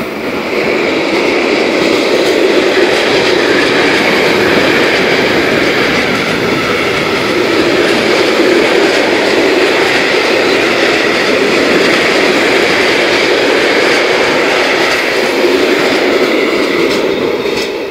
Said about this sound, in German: jetzt kommt hier ein Zug,